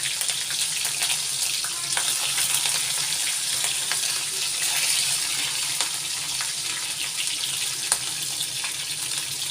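Chana dal, urad dal and chopped green chillies sizzle in hot oil for a vegetable upma tempering, a steady, close crackling fry with occasional pops and no talking.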